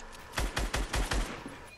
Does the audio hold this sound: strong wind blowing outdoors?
no